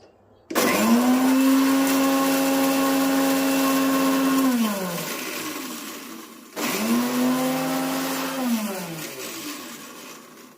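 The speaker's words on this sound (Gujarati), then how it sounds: "આને પીસવાનું મિક્સરમાં" A mixer grinder grinding buttermilk spice mix with curry leaves and mint whirs loudly in two runs, a long burst winding down, then a second shorter burst after a brief pause.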